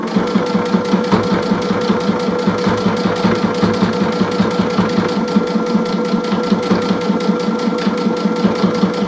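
A sewing machine stitches in the ditch on a small mug rug quilt, running steadily with a fast, even mechanical chatter and a hum, close and loud the whole time, with no talking.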